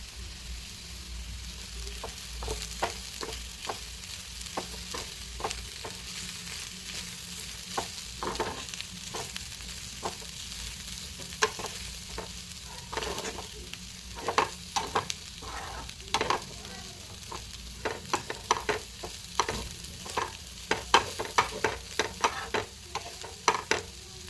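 Ivy gourd fry with chili powder being stirred in a pan over low flame, a steady frying sizzle broken by frequent sharp scrapes and clacks of the spatula, close and alone with no voices.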